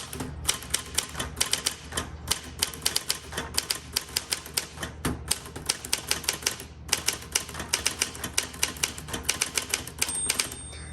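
Steady, fast clacking of manual 1959 Smith Corona Galaxie typewriter keys, close and loud, with short pauses and a faint bell ding near the end.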